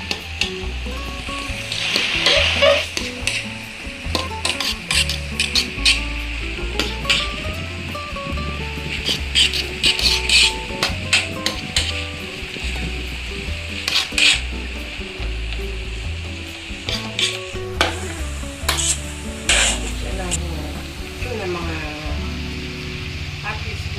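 Milkfish filling frying in a pan, sizzling steadily while it is stirred with repeated scraping and clattering strokes, with a voice talking and background music throughout.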